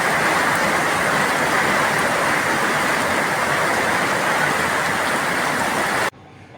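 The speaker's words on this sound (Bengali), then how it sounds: "এই যে বৃষ্টি নেমে গেছে" Heavy rain falls in a constant close roar of drops for about six seconds, then cuts off abruptly into near silence.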